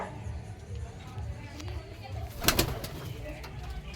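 Matraj pigeons in a home loft coo in low, rolling phrases that repeat steadily, heard fairly quietly under a faint murmur of background voices and room noise.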